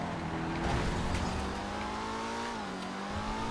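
ZR350 engine in GTA FiveM on a time attack lap, a steady sustained drone with rising pitch through acceleration and a brief dip like a gear change, loud and continuous with no talk.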